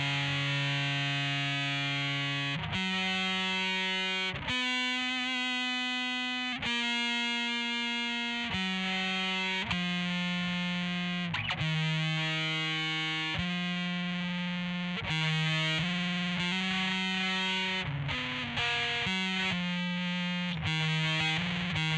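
Electric guitar played through fuzz pedals at full fuzz from the Jazzmaster pickup, a thick, saturated sequence of sustained distorted notes and chords changing every second or two, loud and continuous with no talk.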